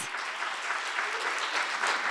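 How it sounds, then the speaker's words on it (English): Steady, dense applause from a poetry slam crowd, sustained at an even level throughout with no talking. "Can we give them a huge round of applause?"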